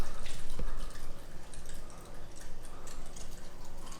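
Water drips steadily onto filter media in an aquarium's overhead sump, a soft continuous trickle with small ticking drops and one sharper splash near the start.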